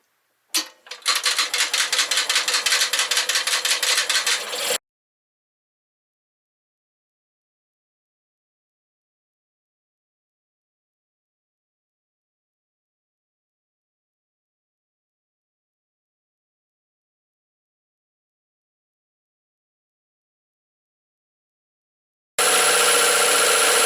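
A 1968 Kohler 6.5 kW marine generator engine, stone cold at 35 degrees, cranks and catches, running with a loud, rapid mechanical chatter for a few seconds before cutting off; after long silence it starts running again.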